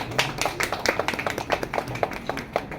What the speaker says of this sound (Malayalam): സാറിന് വലിയ ക്ലാപ്പ് എല്ലാവരും നൽകൂ.